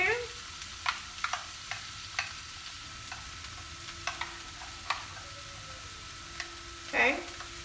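Softened vegetables cook in a pan for an egg roll in a bowl dish, a quiet steady sizzle broken by sharp clicks and taps of a utensil. A short scrape comes near the end, with no talking.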